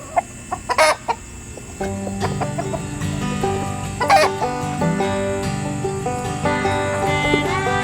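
Homestead chickens and roosters cluck in short, loud bursts near the start, then keep clucking intermittently under steady background music for the rest of the clip.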